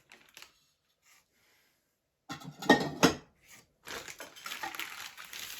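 Ceramic clatters in short bursts: a few faint taps, then a couple of sharp clinks and scraping as a plate is moved about, with quiet pauses between.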